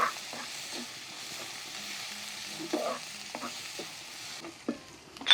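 Prawns fry in groundnut oil with a soft, low sizzle beneath intermittent scraping and knocking of a stirring spoon against the pan, close by and fairly quiet.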